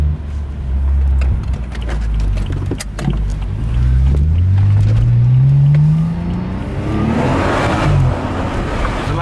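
A car revs hard while spinning donuts in a high school parking lot, its engine note climbing and falling in long sweeping pitches, loud and close, with tire and road noise underneath.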